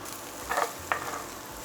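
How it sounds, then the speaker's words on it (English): Chopped onion sautéing in cooking oil in a pan on medium-high heat: a steady, close frying hiss with two short bursts of stirring. "We'll saute this onion until it becomes clear and slightly brown."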